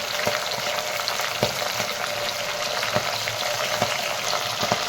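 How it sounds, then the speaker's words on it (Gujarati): Cluster beans and long-cut potato strips frying in oil, a steady close sizzle with scattered crackles and pops running throughout, no voices. "આપણે એમાં બટેટા લાંબી ચીરુમાં કટ કર્યા હતા એ આપણે એડ કરી દઈશું"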